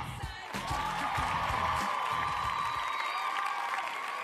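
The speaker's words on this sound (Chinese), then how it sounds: "掌声送给北东连特纳瓦" An audience at a kickboxing event applauds and cheers for a Muay Thai champion being introduced, a broad wash of clapping and crowd noise with a sustained tone running through it.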